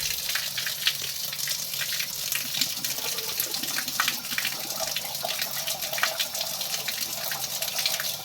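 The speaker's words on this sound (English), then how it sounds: "Get the tap on, see if it clears." Water runs steadily from a tap into a freshly unclogged sink and drains away, making a continuous close splashing gush with no talk.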